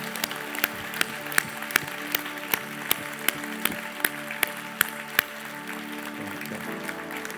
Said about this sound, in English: let's applaud them. Everyone who's being baptized today.